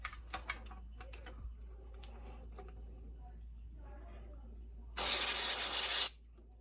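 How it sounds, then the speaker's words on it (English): A few clicks and light taps, then a loud continuous aerosol spray of electrical contact cleaner on the contacts of a vintage Mayfair set hisses for about a second before cutting off abruptly. "Let's spray this off with electrical cleaner and clean the contacts"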